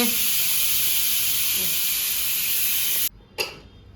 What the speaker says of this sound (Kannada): ಕುಕ್ಕರ್ ವಿಜಿಲ್ ಬಂದಿರೋದನ್ನು ನಮ್ಮಮ್ಮ ಓಪನ್ ಮಾಡ್ತಾ ಇದ್ದಾರೆ